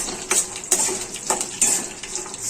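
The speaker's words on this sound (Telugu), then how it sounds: "ఇప్పుడు దీనిలో కొన్ని జీడిపప్పులు కూడా వేసుకొని వీటిని బాగా వేయించుకుందాము" Cashews frying in a pan with green chillies while making mango pulihora, with soft stirring scrapes and light clinks of a utensil against the pan at irregular intervals over a faint steady sizzle.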